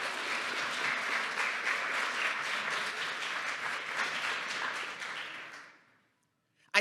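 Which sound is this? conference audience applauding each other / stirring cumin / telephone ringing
conference audience applauding each other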